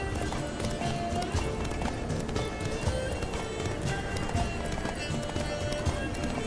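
Geralt's horse galloping in The Witcher 3: Blood and Wine, with a steady, rapid clip-clop of hooves running continuously at an even level.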